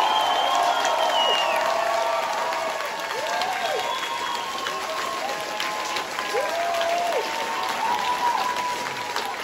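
Dense, steady applause from a club audience at a rock concert in Orenburg, sustained and fairly loud throughout, with scattered whistles and cheers rising above the clapping.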